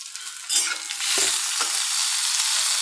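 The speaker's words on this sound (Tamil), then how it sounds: "தக்காளி வெங்காயம் நல்லா வதங்கட்டும் பாருங்கள்." Tomatoes and onions sauté in a pan with a steady broadband sizzle, and a few stirring scrapes sound near and clear partway through. The bitter gourd dish cooks with no talk over it.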